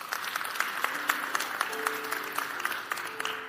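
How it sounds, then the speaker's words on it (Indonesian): Church congregation applauding during a sermon, a dense burst of hand clapping that holds steady for a few seconds at moderate loudness, with a faint voice or two murmuring beneath the clapping. "Beri tepuk tangan."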